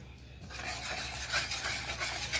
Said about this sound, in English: You want to whisk that in really good and get it broke down into the whipping cream.